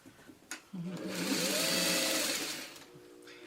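A sewing machine stitches a seam in fabric for a string basket, a single steady run of about two seconds that swells and fades, with a voice faintly present alongside.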